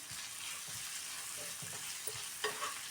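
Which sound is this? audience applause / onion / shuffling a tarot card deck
onion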